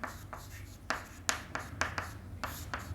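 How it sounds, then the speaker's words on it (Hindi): Marker or chalk strokes on a classroom board during a Class 9 physics lesson on gravitation, a series of short scratchy taps and squeaks, moderately close, with no talk. "चलो इसको यहाँ में लिखता हूँ"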